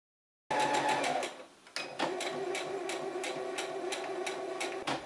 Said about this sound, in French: On pré-pique donc à 5 mm du bord le premier pli.